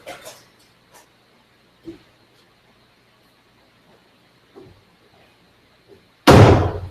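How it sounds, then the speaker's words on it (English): An indoor door swings shut with one loud, close slam after several seconds of near silence and a few faint knocks and bumps. "let me close this door"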